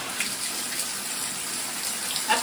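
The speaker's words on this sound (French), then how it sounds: "Qui c'est qui fait sa douche?" A shower runs in a steady, hissing stream while a rabbit is washed at an animal shelter, a close and continuous spray of water with no talk.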